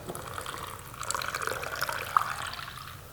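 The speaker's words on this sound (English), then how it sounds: "I'm gonna pour a cup of this." Coffee pouring steadily into a cup, a soft gurgling trickle that rises slightly in pitch as it fills, nearby and fairly quiet.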